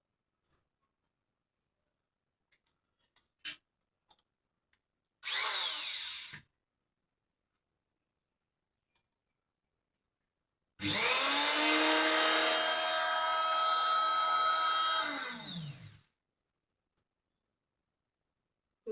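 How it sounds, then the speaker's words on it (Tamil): Electric cloth-cutting machine slicing through four layers of white fabric for school uniform trousers: a brief, loud motor burst, then a longer steady whine of about five seconds, close by with no talking. "இப்போ நான் வந்து இந்த மிஷினில் வந்து கட் பண்ணிக்கலாங்க"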